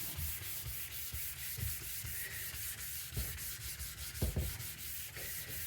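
Simoniz Platinum restoration kit sanding a yellowed plastic headlight lens, a steady close scrubbing rasp in quick back-and-forth strokes, with a few louder pressed passes near the end and no talking.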